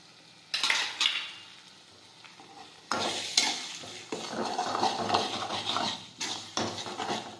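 A spoon stirring spices into green urad bean curry as it sizzles in a pan, with close scraping and clinking strokes over a steady frying hiss.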